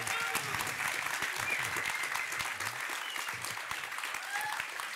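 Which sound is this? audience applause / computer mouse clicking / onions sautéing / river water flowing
audience applause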